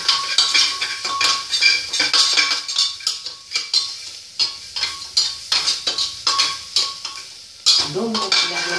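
A spoon stirs spices into egg curry in a pressure cooker, with steady, close scraping and clinking of metal against the pot and a faint sizzle underneath, continuing throughout with no talk.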